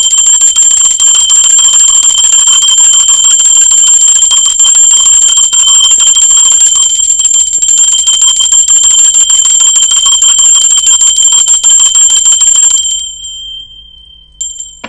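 A bell rung during a tarot reading sends out a loud, sustained metallic ring with bright overtones. It holds steady for about thirteen seconds, then fades away, with no voices over it.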